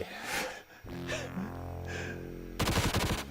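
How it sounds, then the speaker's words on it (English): Machine gun fire from the Sega Mega Drive game VectorMan, a short rapid burst of shots near the end after quieter synthesized game sounds and music. "I've managed to keep my machine gun thing."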